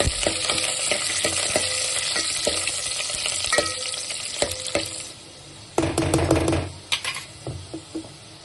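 Curry leaves and chopped onion frying in a pan after garlic has been roasted, with a loud, crackling sizzle and sharp clicks of a spoon stirring and tapping the pan, close by and dying down partway through.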